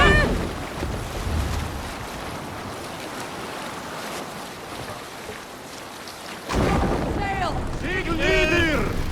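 A ship sailing on the open sea in Assassin's Creed Valhalla, with a broad wash of water and wind and a deep rumble like thunder, followed late by a burst of shouting voices from the crew.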